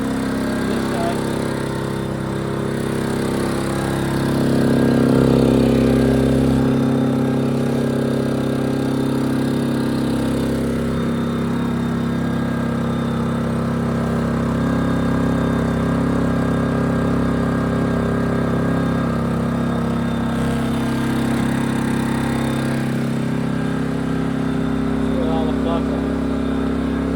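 A Wen 3600 generator runs on propane with a steady mid-pitched engine drone, close and loud throughout, while people talk over it.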